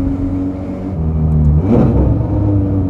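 A Ferrari 430 Scuderia with straight-pipe exhaust and a single-clutch gearbox roars loudly from close by, a deep steady drone that shifts pitch midway and then swells again into a rougher, louder blare.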